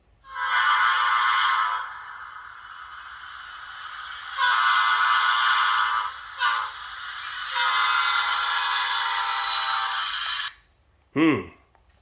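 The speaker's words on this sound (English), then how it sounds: "Now F5 is the Doppler horn, which I'm not going to use, but I'll display it." A Rapido HO scale F59PH model locomotive sounds its Doppler horn: loud multi-tone blasts in several long bursts, then a short final horn that bends sharply downward in pitch as if passing by.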